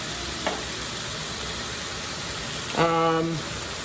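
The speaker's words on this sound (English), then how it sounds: "I'm just gonna add 1 can of tomato sauce" A can of tomato sauce added to a pound and a quarter of sizzling chicken brings a constant loud hiss of frying, with a brief voice speaking over it near the end.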